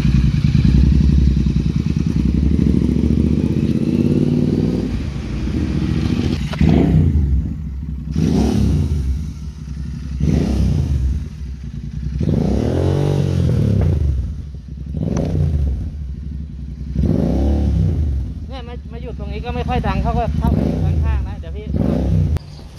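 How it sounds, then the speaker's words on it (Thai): Royal Enfield Interceptor 650 motorcycle fitted with a Dopper megaphone-style exhaust, idling steadily then revved repeatedly in loud, rising-and-falling bursts about every two seconds, close by, with a rumbling exhaust note throughout. "นี่เราจะมาทดสอบความดังของเสียงรถแล้วก็วิธีการขับนะฮะ"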